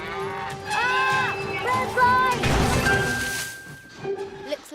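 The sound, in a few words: cows mooing, cartoon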